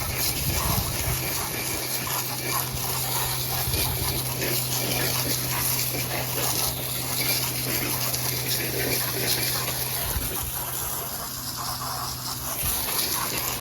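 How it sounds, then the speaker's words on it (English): Running water sprays and gushes steadily onto the wheels of a 1997 Yamaha Banshee ATV, a continuous broadband wash close by with a low pump-like hum beneath and no talking. "I'm gonna wash the wheels because I don't want them all dirty and gross."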